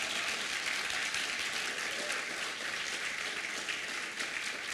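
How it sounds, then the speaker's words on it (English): An audience gives a speaker a round of applause at an Inpower Movement gathering: an even, continuous wash of many hands clapping, moderately quiet and steady for nearly five seconds, with no talk over it. "So once more, round of applause for Cal Washington."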